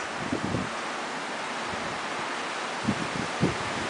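Strong gusty wind blows across the microphone outdoors in Porter Ranch, a steady broadband roar with a few louder buffeting bursts.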